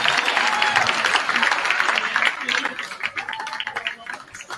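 Crowd applause for seniors and their families at a high school boys' varsity basketball game, clapping and cheering in a gym with voices mixed in, gradually thinning out.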